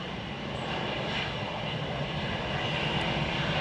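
A Netherlands Air Force C-130 landing at Dublin Airport gives a steady, loud, continuous drone of aircraft engines that holds evenly throughout, with no talk over it.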